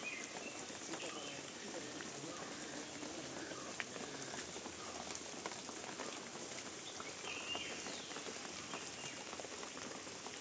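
Steady hiss of water sprayed over a pepper and coffee plantation like falling rain, pattering continuously across the whole stretch with faint voices and bird calls far off.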